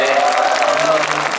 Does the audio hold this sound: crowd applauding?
yes